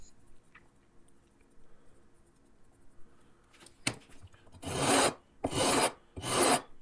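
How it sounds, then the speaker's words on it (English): Guitar frets on a custom wenge semi-hollow guitar are leveled with a beam carrying 320 grit sandpaper, giving three loud, harsh rasping strokes near the end after quieter handling. "My leveling beam has 320 grit sandpaper on it. Nothing too aggressive. It sounds worse than it is, for sure."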